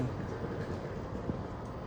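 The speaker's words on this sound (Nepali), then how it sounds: "अब ट्रेन चाहिँ आउन लागेको छ।" A train arriving at Stratford International station rumbles past in a steady low roar, fairly distant and faint, with no talking.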